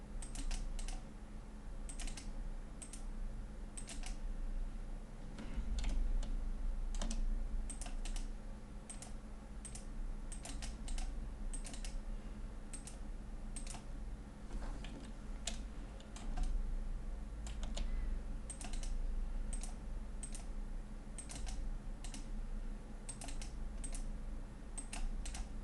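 Keys clatter on a computer keyboard as a command is typed into CAD software while drawing a winding handrail, a steady run of close, crisp keystrokes with no voices.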